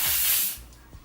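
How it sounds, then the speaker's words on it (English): Extra hold hairspray shoots from an aerosol can in one short, loud hiss that lasts about half a second and then cuts off, leaving a quiet room. "surprisingly strong, extra hold hairspray. And I just hold it up and spray about"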